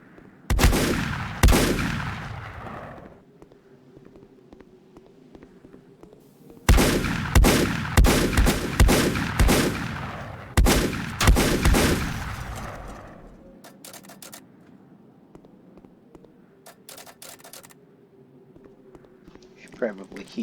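Shotgun blasts in the video game Volcanoids fire in rapid loud bursts, several clustered shots followed by a lull and then more volleys, with a voice talking between and over them.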